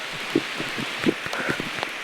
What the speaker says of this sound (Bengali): পাতায় টুপটাপ টুপটাপ বৃষ্টির শব্দ।